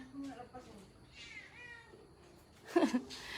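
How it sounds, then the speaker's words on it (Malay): A cat meows several times, faint and intermittent, with a louder, sharper meow near the end, over a quiet background. "Kucing."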